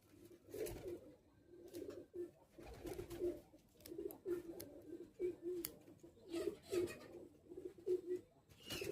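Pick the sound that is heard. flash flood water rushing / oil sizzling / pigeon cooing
pigeon cooing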